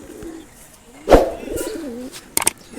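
Pigeons coo in a loft, giving a low throaty call with a sharp bump partway through and a few clicky flutters near the end. Close and moderately loud, with no speech over it.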